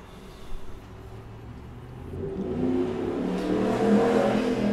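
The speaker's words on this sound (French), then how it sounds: "Vous allez dû entendre un putain de bruit de moto" Motorcycle passing outside an open window: a low engine drone rises gradually from faint to loud as the bike approaches, with the revving growing steadily fuller toward the end.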